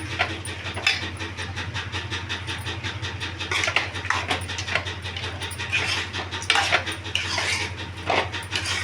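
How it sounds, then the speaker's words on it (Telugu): A spoon scrapes and clinks steadily against a metal pot while dal is stirred, with repeated close metallic scraping strokes over a constant low hum. "ఇప్పుడు పప్పు కలుపుతానా."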